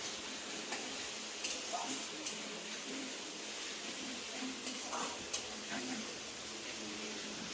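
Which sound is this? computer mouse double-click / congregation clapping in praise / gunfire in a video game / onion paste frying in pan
onion paste frying in pan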